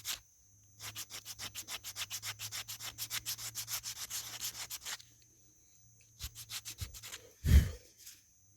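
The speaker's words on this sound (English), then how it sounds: "It's like a manual belt sander. Get those scratches out of there." A resin spoon is rubbed back and forth on a hand-operated belt sander, a steady train of close, rhythmic scraping strokes, then a pause and a few more strokes ending in a low thump.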